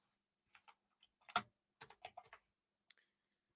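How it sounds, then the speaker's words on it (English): Typing on a computer keyboard comes as a faint scatter of close, crisp keystrokes in small irregular clusters, separated by silent gaps, with no voices. "Let me type in each one real quick."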